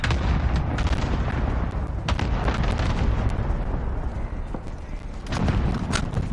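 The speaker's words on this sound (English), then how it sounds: "Allied cluster strike incoming." An allied cluster strike in Call of Duty: Modern Warfare unleashes a dense barrage of repeated explosions and booms, rolling on for several seconds as distant blasts layered over continuous battlefield noise.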